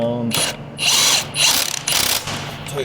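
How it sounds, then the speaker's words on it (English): A 3/8 ratchet tightening 14 mm bolts on a Honda Odyssey during timing belt work, loud and close, with quick clicking bursts separated by brief pauses. "I'll grab my 3/8 ratchet"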